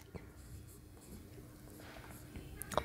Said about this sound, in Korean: 예쁘게 써볼게요.